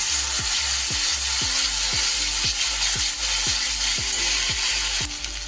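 Ginger, garlic and green chilli paste hitting browned onions in a pan for fish kaliya, giving a loud, continuous sizzle with a regular rhythmic scraping of the spatula about twice a second.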